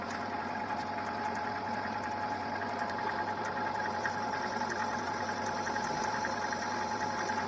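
A metal lathe machines the bearing housing bores of a Yamaha RX King motorcycle crankcase, giving a steady, continuous mechanical whir with a faint high ringing tone, evenly loud and close throughout with no talking.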